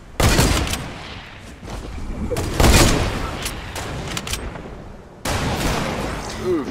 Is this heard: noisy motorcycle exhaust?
no